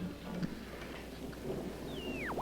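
A thunderstorm in the 1957 film Attack of the Crab Monsters rumbles low and steadily under rain noise. A faint whistling electronic tone sweeps across near the end.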